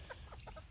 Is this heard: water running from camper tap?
no